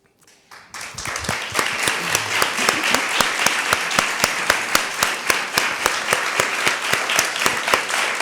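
An audience at a university women-and-media event claps at the close of an interview with actress Daniela Vega. Applause starts abruptly after a short silence and continues as steady, dense clapping with distinct individual claps standing out.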